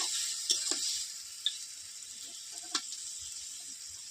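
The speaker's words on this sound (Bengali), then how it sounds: "পেঁয়াজটা লাল হয়ে গেছে এখানে মধ্যে মাংসটা দিয়ে দেব একটু নেড়ে চেড়ে" Chicken pieces sizzle among fried onions that have turned red in a pan, a steady hiss broken by a few sharp clicks and taps of stirring, with no talking.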